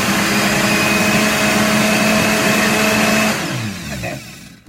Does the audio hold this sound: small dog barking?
no